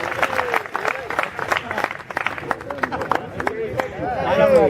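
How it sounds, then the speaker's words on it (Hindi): Audience applause at an annual hostel function in a university hall, a dense spread of clapping with crowd cheering and chatter, steady and fairly loud throughout, swelling toward the end. "तालियां, जोरदार तालियां।"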